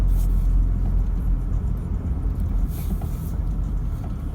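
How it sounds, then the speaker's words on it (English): A 4WD 150 labours up a rough off-road track in the Dargo high country, its engine rumbling close and loud with uneven surges as traction control works, no speech heard. "the 150 works hard to get the job done"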